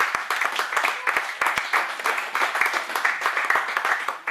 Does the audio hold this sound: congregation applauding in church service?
yes